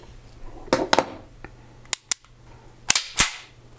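The steel slide of a SIG P210 pistol is pulled back and let go several times, giving crisp, close metallic clacks with a brief ringing edge, in quick pairs separated by short pauses.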